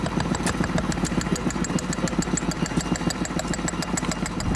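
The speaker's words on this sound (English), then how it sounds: "A handheld or mounted tool that uses compressed air to drill holes in various materials" Pneumatic drill using compressed air to drill holes in construction or mining: a loud, rapid, steady mechanical hammering rattle that runs continuously close by, with no voices.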